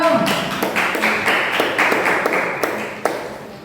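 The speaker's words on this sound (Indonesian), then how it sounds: "Tepuk tangannya dong" A classroom audience applauds a student group after their presentation, a steady patter of claps from many hands, near and lively, gradually thinning toward the end.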